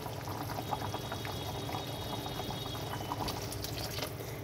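Fish curry gravy simmering and bubbling in a pan, a steady dense bubbling hiss with scattered small pops, close and continuous without talk.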